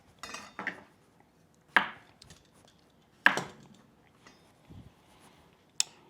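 A knife chops fresh vegetables on a cutting board while Korean beef is being prepared, with a few sharp, separate thuds spaced a second or so apart and some softer knocks between, close and clear with no talk.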